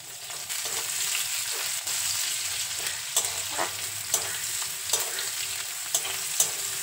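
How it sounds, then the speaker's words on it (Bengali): Two medium chopped onions frying in oil with whole spices, a steady close sizzle broken by regular scraping strokes of a spatula stirring the pan, no talk. "দুটো মিডিয়াম সাইজের কেটে রাখা পেঁয়াজ ওই তেলের মধ্যে দিয়ে হালকা বাদামি করে ভেজে নেব"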